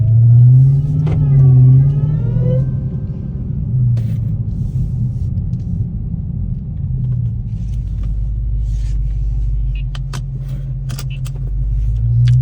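Dodge Hellcat Redeye V8 engine rumbling loudly during an early-morning drive, a steady deep drone with a brief rev swell near the start and continuous low road noise throughout.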